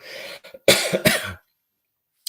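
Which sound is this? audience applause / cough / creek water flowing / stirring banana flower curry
cough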